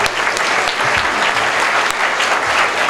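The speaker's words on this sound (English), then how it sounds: "please welcome and give Dick a round of applause." Steady, dense applause fills a room at a lifetime achievement award presentation during a June 2010 GTRA council meeting, a continuous wash of many hands clapping at close range with no voices on top.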